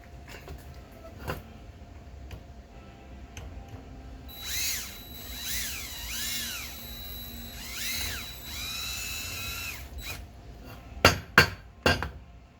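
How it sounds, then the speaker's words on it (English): Bursts of high-pitched drilling whine start and stop in short runs as a drill bores out epoxy around screws, followed by a few sharp clinks near the end; no talking. "I'm going to drill out and remove the epoxy"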